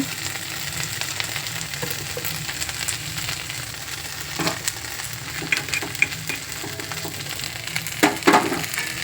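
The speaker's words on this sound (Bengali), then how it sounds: "গোটা ধনের মধ্যে আমি একটু জিরে দিয়ে দেব, শুকনো খোলায় ভালো করে ভেজে নেব।" Whole coriander seeds and cumin dry-roast in a dry pan, producing soft crackling and popping with scraping stirring strokes that grow busier toward the end.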